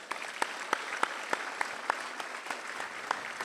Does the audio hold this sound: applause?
yes